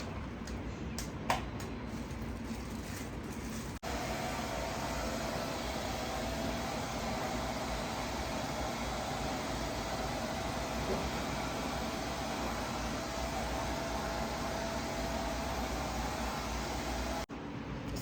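A steady, loud broadband whoosh of a hair dryer blowing continuously, starting after a brief quieter moment and holding nearly unchanged to the end.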